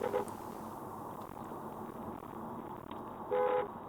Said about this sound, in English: I'm using the horn to wake him up.